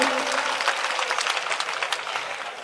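An audience at a mushaira poetry recital bursts into loud, steady applause, a bright wash of clapping that holds and slowly thins out.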